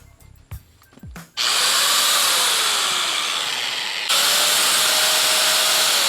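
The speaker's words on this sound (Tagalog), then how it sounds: "Tapos ito ang ating angle grinder. Tingnan natin kung gumagana." Angle grinder switched on after a few handling clicks and thumps, spinning up into a loud, steady high-pitched whine with a faint falling and rising tone, running close for several seconds with a brief dip midway.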